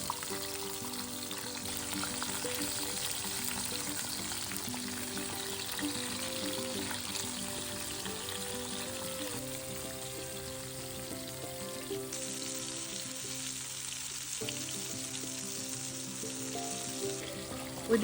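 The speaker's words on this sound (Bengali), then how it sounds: "সরিষার তেলে আমি টমেটোগুলো ভেজে নিচ্ছি ভর্তা করার জন্য।" Tomatoes frying in mustard oil, a constant even sizzle held at moderate distance, with a faint steady background tone layered underneath throughout.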